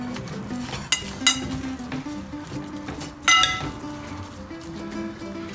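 A spoon scrapes and clinks against a bowl while mustard is mixed into chicken, with a few brighter clanks standing out over soft, continuous stirring noise.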